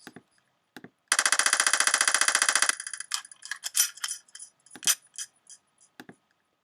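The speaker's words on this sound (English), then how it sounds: "Gun sound, for instance." A synthetic gun sample made in GarageBand fires a rapid machine-gun burst of about twenty evenly spaced shots. Scattered clicks and short pops follow, some loud and some faint.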